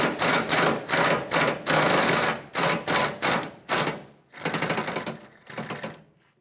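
A 13mm socket on a ratchet or impact tool working a rear bumper bolt loose on a 1996-2002 Toyota 4Runner, a series of rapid rattling bursts with short pauses, loud and close, no talk.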